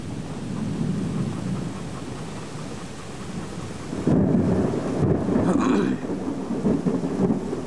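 Rumbling thunder and heavy rain during a severe thunderstorm with hail, a loud continuous downpour with a deep roll of thunder swelling midway, close and enveloping.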